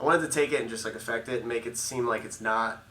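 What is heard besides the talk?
No everyday noises stand out.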